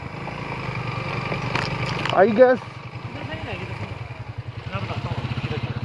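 A motorbike engine putters and idles near Rama Lake base camp in Astore Valley, Pakistan, a steady low throb under people talking, with a brief louder burst partway through.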